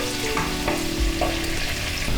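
Sliced onion and chopped ginger sizzling in a pan while being stirred for a rohu fish curry, a continuous close frying hiss with a few scraping strokes.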